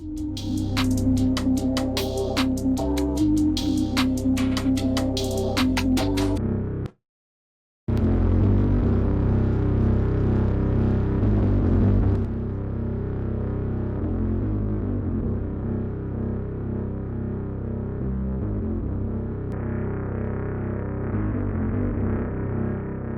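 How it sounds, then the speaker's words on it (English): Heavy distorted 808 bass throbs with a deep sub-heavy drone and a buzzing synth bass layer, stopping abruptly for a moment before resuming. "we'll get a lot of low-end sub-frequencies from the 808 and the high-end sub-frequencies from the synthetic bass"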